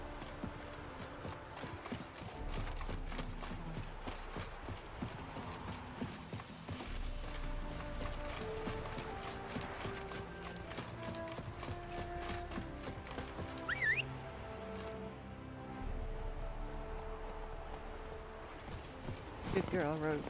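Roach the horse trots in The Witcher 3, her hooves clip-clopping steadily with an occasional whinny, under game music and spoken voices.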